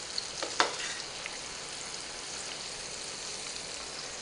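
Okra frying in a pan, a continuous dense crackling sizzle heard up close, with a couple of sharper pops near the start and no voices.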